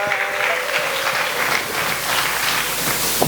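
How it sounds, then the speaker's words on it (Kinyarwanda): A church congregation gives a steady, enthusiastic round of applause to God. The even, crowded clapping fills the hall throughout. "Twongera Imana amashyi meza."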